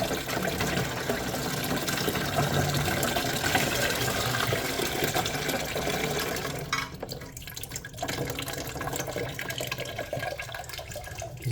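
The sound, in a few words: water draining from toilet tank into bucket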